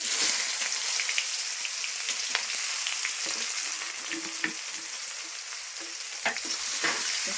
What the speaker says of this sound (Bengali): এখন পেঁয়াজ রসুন দিয়ে দিচ্ছি